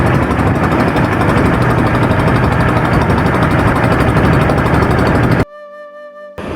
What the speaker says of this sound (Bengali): আমাদের লুৎফর ভাই, খুব মনমুগ্ধকর পরিবেশে মনের আনন্দে নৌকা ভ্রমণের আনন্দ উপভোগ করছেন।